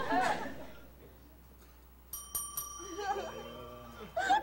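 A bicycle bell rings several quick times, bright and close, between bits of conversation and a soft chuckle.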